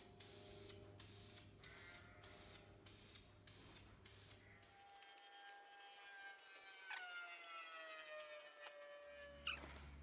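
Short hissing bursts of VHT wrinkle paint spray from an aerosol can onto a motorcycle rocker box in vertical strokes, evenly spaced, followed by a background tonal whine and a faint rumble.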